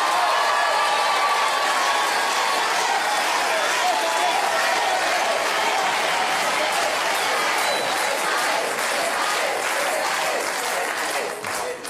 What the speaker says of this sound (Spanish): ¡Aplausos para Marcelita!